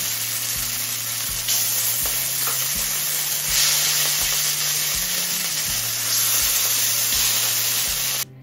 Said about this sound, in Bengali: এবার একই রকমভাবে বাকি মাছগুলো ভেজে নেব।